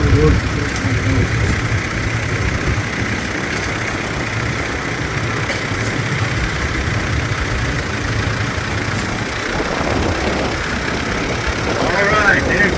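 A restored antique work tractor engine runs at a steady, low idle throughout at an outdoor antique tractor and truck show in Lebanon, Tennessee, with a broad rumble and crowd noise around it.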